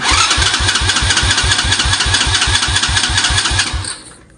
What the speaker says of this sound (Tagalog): aandar yung motor natin